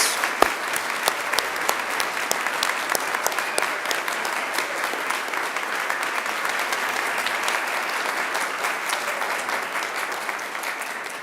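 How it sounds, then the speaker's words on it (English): Sustained applause from a graduation audience at a Macquarie University ceremony fills the hall, dense and steady throughout with sharp individual claps standing out near the start. "give yourselves a huge round of applause"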